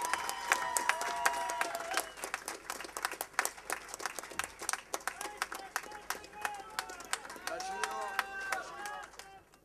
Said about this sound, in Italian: L'applauso, prima l'applauso.